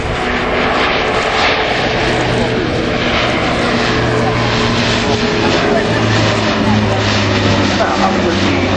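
Airplane engines roar loud and steady throughout as an aircraft makes a flyby at the Royal International Air Tattoo airshow at RAF Fairford.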